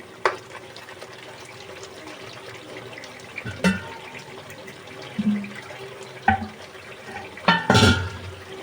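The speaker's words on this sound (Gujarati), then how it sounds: "હવે થોડુંક આપણે આમાં પાણી એડ કરીશું." Water is poured into a pan of egg tikka masala gravy in a home kitchen, giving a steady soft wash with a few clinks and splashes near the end.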